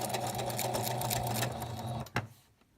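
A sewing machine back stitches on a quilt with a fast, steady mechanical chatter close by, stopping after about two seconds with a sharp clunk, then falling quiet.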